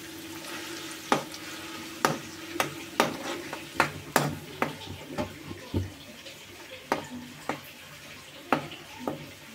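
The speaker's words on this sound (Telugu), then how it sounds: "ఉల్లిపాయ పేస్ట్ శుభ్రంగా బాగా వేగనియాలండి" Onion paste fries in oil with green chillies in a pan, a low steady sizzle broken by a dozen sharp, close knocks and scrapes of a spatula at an uneven rhythm.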